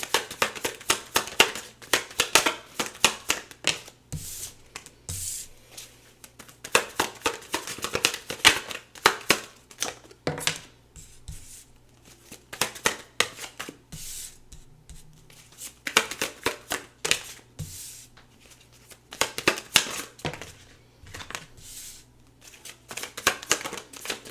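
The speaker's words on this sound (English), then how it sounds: "Just give me a minute to pull some cards." A deck of tarot cards is shuffled and handled up close, with rapid riffling and slapping bursts repeating in waves and short pauses between, and no talking.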